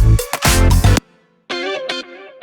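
Fast electric guitar runs processed with distortion and chorus-style effects, 70s–80s flavour, in two loud bursts separated by a brief gap of near silence.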